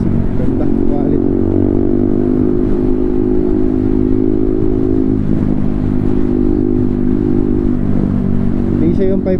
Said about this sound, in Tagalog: Hindi siya yung pipe na bulahaw na tunog lata, ano? Solid.